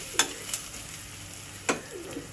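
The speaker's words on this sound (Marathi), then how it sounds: "आणि कांदा छान गुलाबी रंगावर आपण परतून घेऊया" Onion sizzles softly in a pan while being stirred to a light pink, a low steady frying hiss broken by a few brief sharp clinks of the spoon against the metal.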